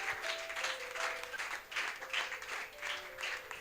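A congregation applauding in church, dense rhythmic clapping that swells and dips in waves, steady and fairly distant-sounding, with a faint voice underneath.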